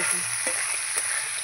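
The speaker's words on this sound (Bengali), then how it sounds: "এই যে মাথাগুলো এবার ভাজা হোক।" Catla fish heads frying in hot oil for a mung dal, giving a steady close sizzle and crackle throughout with a few soft stirring knocks.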